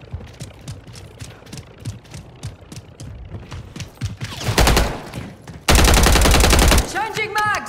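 Bursts of automatic gunfire in Call of Duty: Modern Warfare 3, scattered shots building into a loud, sustained machine-gun stream near the end, with voices calling out between volleys.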